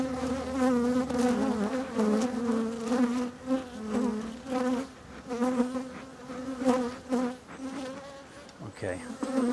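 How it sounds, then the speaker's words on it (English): A dense swarm of honey bees hums steadily around an open hive, a loud, continuous layered drone with rising and falling intensity throughout. "There is a lot of bees here."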